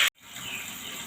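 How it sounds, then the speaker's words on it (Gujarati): Water gushes steadily from a tap or is poured, starting right after a short abrupt cut and continuing at moderate level through the brief stretch. "કુકરમાં આપણે ઉપર પાણી રાખી દીધું છે"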